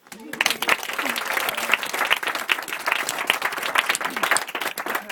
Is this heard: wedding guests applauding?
yes